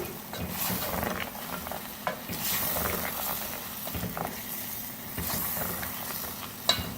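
Chicken jalfrezi with spices and salt stirred in a pan, a close sizzle broken by repeated scraping strokes and a few sharp clinks, moderately loud with no voices.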